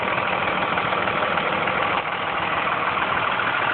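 A 2001 Dodge 4x4 turbo diesel truck engine idles in good running condition, a loud, steady, close rumbling clatter that stays even throughout with no voices.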